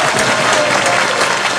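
Dense, loud studio audience applause on a Dutch television quiz show, a steady continuous wash of many hands clapping together without letup.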